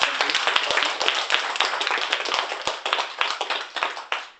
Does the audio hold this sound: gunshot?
no